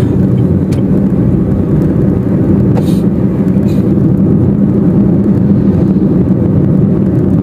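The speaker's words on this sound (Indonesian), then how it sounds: "Nah itu baru truk atau apa ya istilahnya, dump truck ya guys" A dump truck rumbling past on a narrow one-way road, a loud and steady deep engine roar that holds throughout with faint rattles on top.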